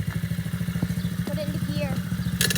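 Close by, a Coolster 70cc dirt bike engine idles in a steady rapid putter after starting, with faint voices in the background and a short clattery rattle at the end.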